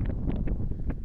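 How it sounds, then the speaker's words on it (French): Wind gusting outdoors in hot weather, where fruit trees are being planted, buffets the microphone as a steady low rumble with a few brighter gusts, no voices. "il y a un peu de vent là"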